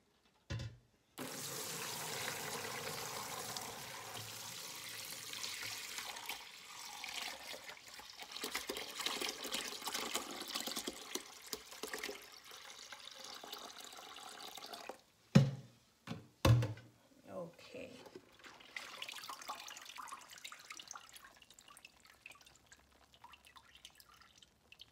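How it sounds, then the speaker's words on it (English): Red Jamaican sorrel drink pours through a colander to be strained, a long steady trickling and dripping stream, faint and close, ending with a few knocks and splashes and a quieter trickle. "So now I am going to strain it off."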